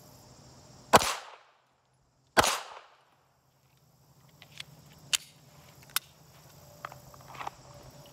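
Sharp .380 pistol gunshots fired at practice targets, two loud close reports about a second and a half apart, followed by quieter clicks and small knocks in an otherwise still outdoor range.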